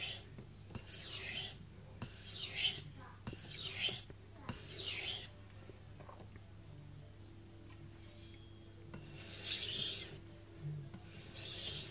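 A knife blade is sharpened on Morihei whetstones in slow, rhythmic rasping strokes, each a close scraping swish followed by brief pauses, with a quiet stretch between passes.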